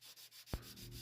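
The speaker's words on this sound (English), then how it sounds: "I am just sanding off my stencil" Sanding a stencil off a wooden scroll saw project by hand, a soft rhythmic scratchy rubbing in quick back-and-forth strokes, with a single low thump partway through.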